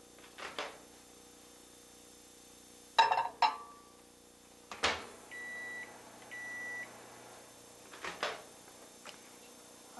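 A microwave oven warming milk in a Pyrex measuring cup: door thumps and clicks, a pair of electronic beeps as buttons are pressed, then further knocks and handling, all quiet and close.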